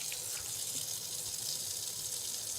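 Water runs from a tap for a quick rinse, a steady, soft, hissing flow close by with no talking over it.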